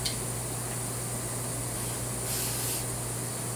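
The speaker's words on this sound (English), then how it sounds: "we'll spray the powder blast in here again" Aerosol powder blast cleaner hisses as it is sprayed into an AR-15 rifle receiver, a steady close spray with a slight surge partway through, heard alone without talking.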